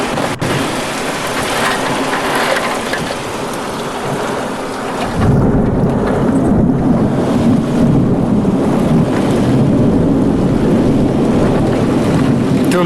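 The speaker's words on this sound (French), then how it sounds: "cet orage de fou" A violent summer thunderstorm in Sallanches, in the Alps, with steady heavy rain and rumbling thunder. After a few seconds the low roar swells louder and fuller and stays dense to the end, with no voices.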